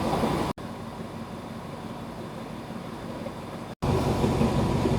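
A GEK-class diesel locomotive hauls a Thai-built passenger train set out at night on a test run, giving a steady, loud rolling rumble that runs unbroken apart from two brief cuts.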